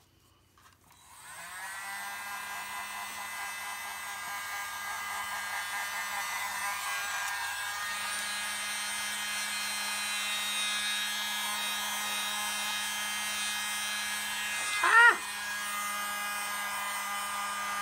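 A hair dryer blowing across poured paint for a puddle-pour painted purse starts up and runs as a steady, close whine, with a brief pitch dip near the end.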